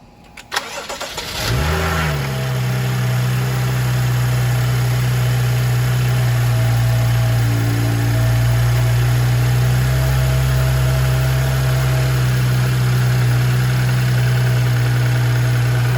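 A 2015 BMW 435i with an N55 engine cranks briefly, catches, and then settles into a loud, steady idle that hums on without change.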